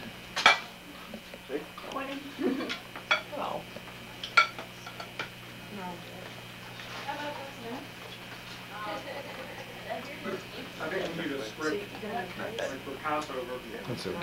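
Plates and cutlery clink and clatter at an outdoor picnic in Strathmore in 1990, with scattered sharp knocks and chinks under frequent conversation between several people.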